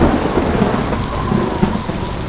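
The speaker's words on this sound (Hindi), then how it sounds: "बूंदों में बरस रहा कुदरत का संगीत, पत्तों की कोमलता पर बूंदों की ये छुअन" Heavy rain pours steadily in the mountains of Bir Billing with low thunder rumbling beneath it, a loud, dense wash of sound with no voices.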